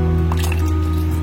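Soy sauce is poured into a Japanese chicken ramen broth, giving a short wet squishing drip and splash over a steady background hum, with no voices.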